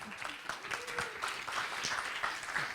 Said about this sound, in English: A big applause for yourself.